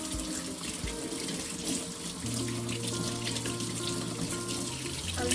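A tap runs steadily into a sink while hands are washed under it, a continuous close splashing water flow with shifting tones as the stream hits hands and basin, no talking.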